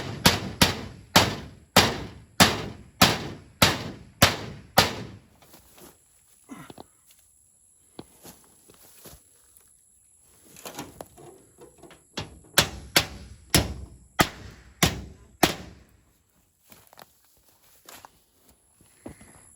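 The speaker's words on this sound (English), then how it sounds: "Okay, I put one roofing nail in it. Let's tack it on up." A hammer driving a roofing nail to tack a panel onto a DIY greenhouse frame, a quick run of about ten sharp, evenly spaced blows, then a pause and another rapid burst of strikes, close and loud.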